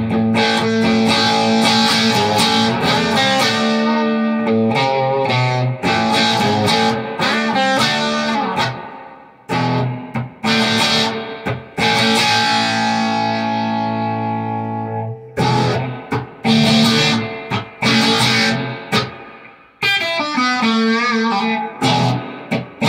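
Electric guitar chords and notes ring out through a CMI SG-212 amp with reverb turned all the way up, heavy reverb tails washing under each strum and brief gaps of decay between phrases.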